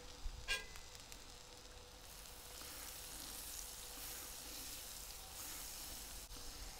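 Butter sizzles in a skillet outdoors on a deck, a faint continuous hiss and crackle heard from near the pan, with a couple of small clicks early on.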